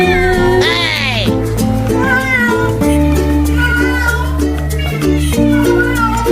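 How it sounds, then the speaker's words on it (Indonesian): A cat meows repeatedly, loud and close, with drawn-out, wavering cries over a steady background hum. "Ini lagi ngeong-ngeong nih teman-teman."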